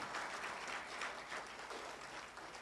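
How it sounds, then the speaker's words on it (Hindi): Audience applause at an insurance agents' award celebration in Nagpur, a steady wash of many hands clapping at close range, fairly loud and continuous with gentle rises and dips throughout. "जोर से ताली बजाना चाहिए भाई साहब, अभी बहुत टाइम हो गया।"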